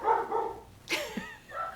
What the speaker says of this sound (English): I have to go calm down my dogs.